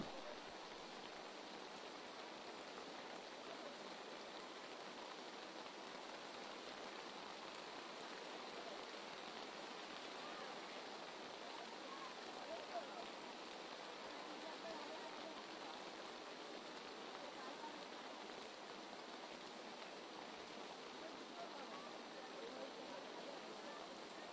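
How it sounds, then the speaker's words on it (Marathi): Steady, dense hiss of heavy rain pouring down without pause over an outdoor cricket match, filling the whole stretch at an even, loud level. "आज पावसाने देखील काय जोर धरलाय"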